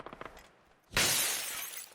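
Glass shatters in the PUBG video game, a sudden loud crash with a bright, hissing spray of shards that trails off, preceded by a few soft clicks.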